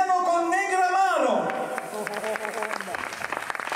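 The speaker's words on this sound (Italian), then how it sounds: "accogliamolo veramente con il più grande degli applausi, signori, Cristiano Colnegramaro." At a live variety show, a drawn-out shouted introduction from a host gives way to audience applause and cheering, a busy wash of clapping with scattered voices.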